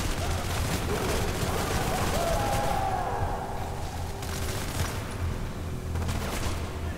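Continuous gunfire from the violent shooter game Hatred, a dense rattling barrage with low booms that stays loud throughout, with a faint voice in the background.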